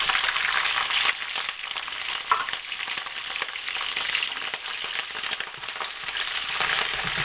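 Mushrooms sizzle and crackle steadily in a hot pan of beef stroganoff drippings, a continuous close frying hiss with occasional pops and stirring scrapes.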